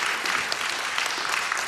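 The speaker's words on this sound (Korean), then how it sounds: "하나님께 영광의 박수를, 우리 장로님에게 축복의 박수를" Church congregation applauding together during a Sunday worship service, a steady dense wash of many hands clapping close and loud throughout, with no talk over it.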